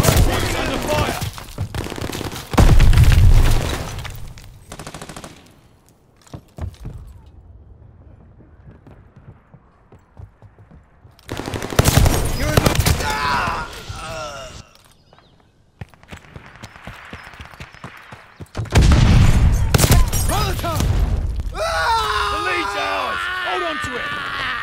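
Bursts of rapid automatic gunfire and explosions in a first-person shooter game, loud clusters separated by quieter gaps, with voices calling out between the volleys.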